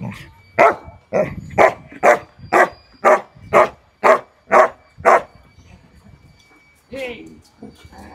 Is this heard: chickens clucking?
no